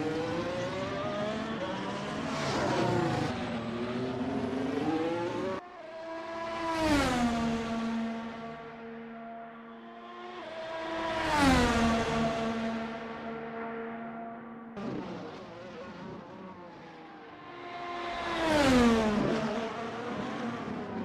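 Racing video game cars at speed at the Circuit of the Americas, several loud engines rising in pitch as they accelerate and falling as they pass, in repeated waves of roaring fly-bys.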